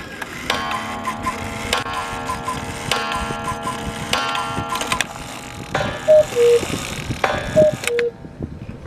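Antique Black Forest cuckoo quail clock with leather-inserted hammers, its steady mechanical tick-tock running throughout, then two-note cuckoo and quail calls repeating near the end, close and fairly clear.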